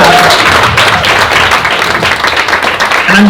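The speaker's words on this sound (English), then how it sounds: "round of applause for these" Audience applause for filmmakers at a film festival panel, a dense, steady wash of clapping hands that holds loud and even from start to finish, with a brief voice near the start.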